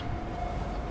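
Steady low rumble of a train at a subway station, continuous and fairly close for under a second, with a faint high tone running through it.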